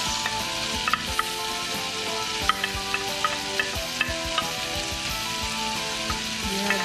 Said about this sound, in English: Then let's add our onion,